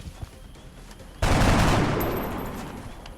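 A sharp gunshot burst erupts after a quiet stretch in XCOM Long War, loud and sudden, then a long decaying rumble trails off over several seconds.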